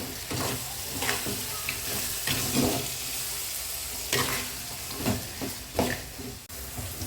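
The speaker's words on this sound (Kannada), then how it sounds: "ಸೊ ಇವಾಗ ಇದು ಚೆನ್ನಾಗಿ ಫ್ರೈ ಮಾಡ್ಕೋಬೇಕು" Capsicum fries for vangibath in a hot pan, a steady crackling sizzle running throughout with intermittent spatula scrapes and clanks against the vessel.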